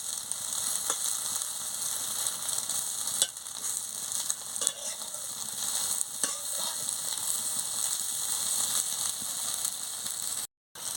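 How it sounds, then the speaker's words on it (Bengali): Soybean chunks frying in hot oil in a kadai, giving a continuous bright sizzle with occasional stirring clicks and scrapes; no talking. "এবার আমি সোয়াবিনগুলোকে ভেজে নিচ্ছি দেখুন বন্ধুরা সোয়াবিনটাকে কি সুন্দর ভেজে নিচ্ছি দেখুন লাল লাল করে"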